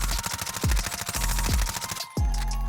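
Rapid automatic MP5 fire in a video game, a dense, steady stream of shots with a short break near the end before the burst resumes, loud and close with no talking.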